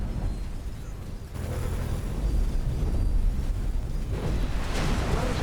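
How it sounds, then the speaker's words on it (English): A fabrication area is destroyed in the space game X4: Tides of Avarice, a deep sustained rumbling blast that swells and rolls on, loud and heavy throughout. "Boom! There goes the fabrication area"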